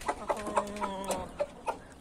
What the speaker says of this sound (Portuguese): Essa galinha que tá botando